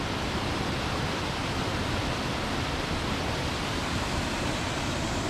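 Water pours steadily over a small old stone dam, a dense, even rush of broadband noise that holds constant and close throughout.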